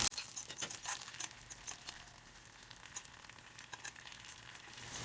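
Sliced onions fry in hot homemade hair oil in a pan on the stove, a faint, continuous crackling sizzle with scattered soft pops, close and steady with no voices.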